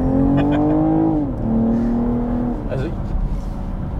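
A BMW M440i xDrive Gran Coupé engine revs up and then drops back, a throaty note heard from inside the car, with someone talking over it.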